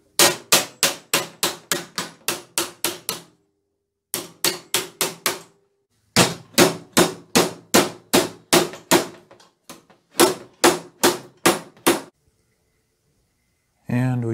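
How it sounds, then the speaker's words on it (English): Repeated sharp metallic hammer blows in quick bursts of rhythmic strikes, ringing against sheet metal being hammered over a bead for a 1913 Ford Model T touring body, with brief pauses between series. "keep them from collapsing when I hammer it over"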